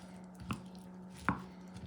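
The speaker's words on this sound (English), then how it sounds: "Onions, which I chop." Onions chopped on a cutting board, two or three soft, quiet knife taps spaced apart over a low steady hum.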